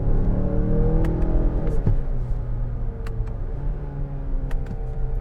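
2021 Mazda CX-9 Signature AWD with a 6-speed automatic accelerating, heard from inside as a smooth, steady engine drone whose pitch climbs and drops with upshifts, with a few faint clicks over it.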